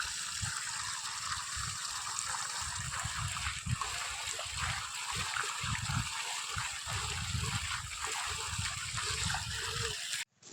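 Irrigation water flowing steadily into a mustard field of small young plants, a continuous rushing, trickling wash with low bumping underneath that holds level throughout and cuts off abruptly at the end.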